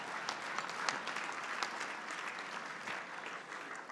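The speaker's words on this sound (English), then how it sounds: "We should give an extra special round of applause to Kathy" A luncheon audience claps for an honoree in fairly quiet, steady applause, a moderately sized crowd heard from a little distance without any voices.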